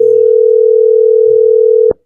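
A telephone call tone rings out on an unanswered phone, one loud steady unbroken tone lasting almost two seconds before cutting off abruptly with a click.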